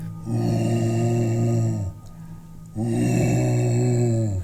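A human voice imitates a long, low, drawn-out male groan, twice, with a short pause between, close and loud.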